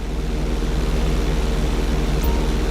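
A propeller airplane's engine drones steadily and close through a barrel roll in GTA V, a continuous pulsing hum with no voices.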